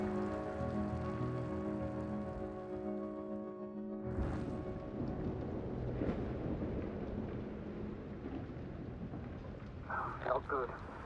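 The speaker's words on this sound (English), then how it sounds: "The storm's raging." Heavy rain from a raging storm in the video game The Invincible, a dense steady hiss with a low rumble of thunder building midway, a tonal hum fading out early and a few sharp clatters near the end.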